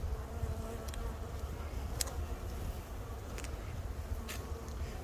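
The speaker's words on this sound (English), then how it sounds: "Put the package of bees to the side." Italian hybrid honeybees drone steadily inside a bee package, a dense close buzz with a few individual bees flying past in brief louder passes.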